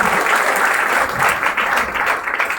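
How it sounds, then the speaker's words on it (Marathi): A hall audience gives loud, sustained applause for rank achievers called to the stage at a company event, with dense, steady clapping throughout. "त्या सर्वांसाठी एकदा जोरदार टाळ्या झाल्या पाहिजे"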